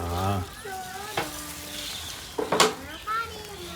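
Ghee poured into a hot cooking pot gives a soft sizzle and crackle, with a brief sharper burst partway through, while someone talks over it close by.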